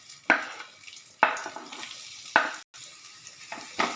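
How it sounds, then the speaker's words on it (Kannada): Onions hit hot oil in a pan and sizzle, with several sharp bursts of frying and stirring scrapes spaced through the moment, close and clear with no talking. "ಇದಕ್ಕೀಗ ನಾವು ಈರುಳ್ಳಿ ಹಾಕಬೇಕು."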